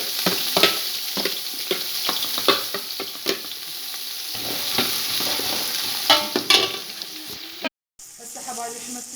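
Onion and green pepper frying in oil in a cooking pot, a loud steady sizzle with frequent spoon scrapes and clatters, briefly cutting out near the end, no speech.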